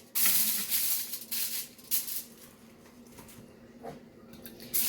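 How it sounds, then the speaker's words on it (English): Several short hissing bursts of non-stick cooking spray onto a pan, close and fairly loud, spaced irregularly with quieter gaps between them. "we're going to spray it with non-stick spray"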